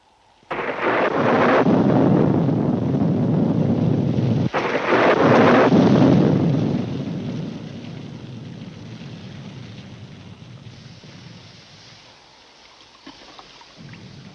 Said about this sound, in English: It looks like a storm.